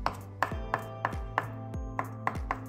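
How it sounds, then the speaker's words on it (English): Crisp knife strikes chopping fresh herb leaves on a cutting board, about eight evenly spaced close-up chops in a brisk rhythm with no talking. "So we're going to peel off the leaves and then I'm going to chop them up."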